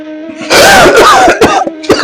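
An unwell man coughs in a hoarse, harsh burst, several rough coughs and throat clearing close to the listener, loud and raspy.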